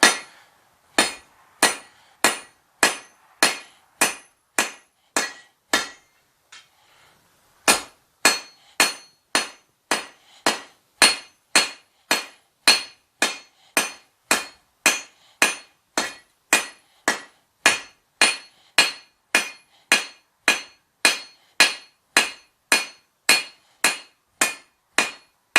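A blacksmith works hot steel from the forge with a cross peen hammer, shaping a Sears tractor part. Loud, ringing strikes land close by in a steady rhythm, broken by one short pause partway through.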